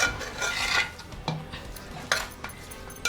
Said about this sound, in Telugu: ఉప్పు, కారం, పసుపు బాగా ముందు ఫస్ట్ ఈ 3 వేసి కలపాలండి ఇలాగా.